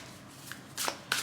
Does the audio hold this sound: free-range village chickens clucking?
no